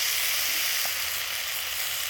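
Ginger paste dropped into hot oil for a red lentil dal, giving a steady broadband sizzle that runs unbroken and fairly loud throughout, with no talk over it.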